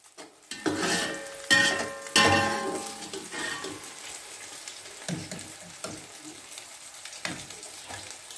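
Ingredients tipped into a hot kadai for Chinese-style rice, bursting into loud sizzling with metallic clinks and clatter, then settling into a quieter fry broken by spatula knocks.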